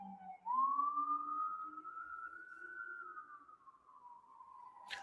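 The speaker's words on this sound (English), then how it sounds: "there's police sirens outside." A police siren wails outside, a single long tone sweeping slowly upward and then easing back down over several seconds, steady and fairly prominent with no talking, ending in a brief sharp click.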